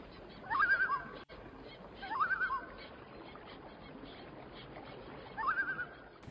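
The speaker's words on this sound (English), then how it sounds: "listen to the only sound you can hear, which is loon music" Loons call three times, spaced apart across a wilderness lake at sunrise, each wavering cry faint and distant over quiet ambient background.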